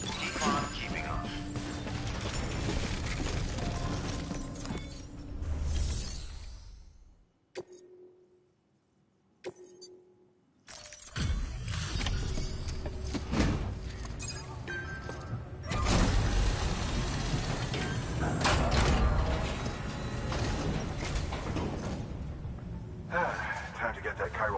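Suit decontamination machinery in the video game Death Stranding: mechanical clanks, hisses and rattling surges with a brief near-silent gap, while voices speak over much of it.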